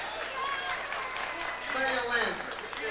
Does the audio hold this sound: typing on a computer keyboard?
no